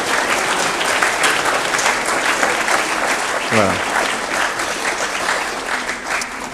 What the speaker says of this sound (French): je voulais vous demander d'applaudir ceux qui, ce soir, n'ont pas eu de prix